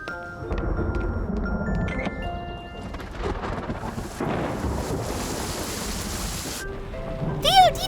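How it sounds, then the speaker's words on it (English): Rain falling with a steady wash and rumbles like thunder or wind for several seconds, under light background sounds, in an animated children's scene. "It's really raining."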